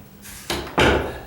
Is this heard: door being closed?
yes